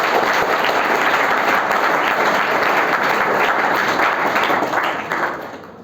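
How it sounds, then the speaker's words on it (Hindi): Audience applause for guests at a school career guidance program for tenth graders, dense and steady clapping from a large group of students that fades out near the end. "आप इनके लिए तालियां बजा दीजिए।"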